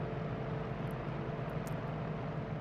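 A Yak-52 aerobatic plane's propeller engine drones steadily in the DCS flight simulator game, with a continuous low rumble and no pauses, and there is no talking.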